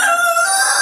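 A farm chicken gives a brief, loud, close call, a single sustained crow-like note lasting under a second with nothing else heard.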